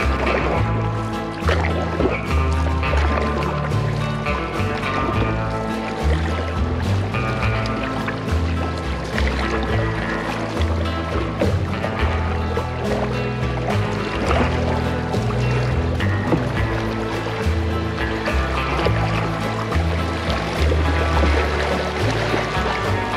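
Canoe running a fast current on Alaska's Delta River, with continuous rushing, gurgling water and splashing close by, dense and steady throughout.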